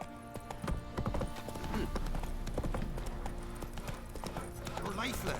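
Roach, Geralt's horse in The Witcher 3 video game, trots with a steady clip-clop of hoofbeats, close and continuous, over other game ambience and voices.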